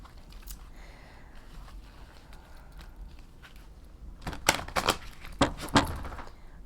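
Quiet rustling, then a run of sharp, close riffling snaps as a small oracle card deck is shuffled in quick bursts.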